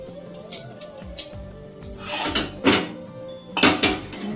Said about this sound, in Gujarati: હવે ગેસ ઉપર આપણે તવી મૂકી દઈશું.